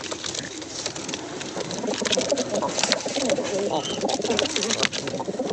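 Racing pigeons fighting, with continuous overlapping coos and wing scuffles filling the scene at close range, steady and busy throughout, with a faint voice underneath.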